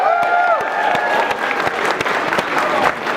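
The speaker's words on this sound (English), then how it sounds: "Please give a big round of applause to my board members." Loud audience applause for board members at a wellness center gala, a dense sustained wash of clapping from a crowd, with a brief tonal ring fading early and faint voices mixed underneath.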